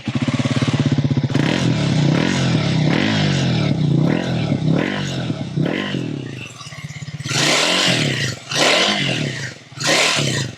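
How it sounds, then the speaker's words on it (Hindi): A Triumph Speed 400 motorcycle's exhaust burbles at a loud, close idle, then barks through several sharp throttle blips in short bursts. "ट्रायन स्पीड 400 की एग्जॉस्ट टोन।"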